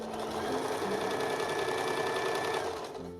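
A sewing machine runs continuously at a steady rapid whir while stitching the lining of an Elizabethan doublet, slowing slightly at the end.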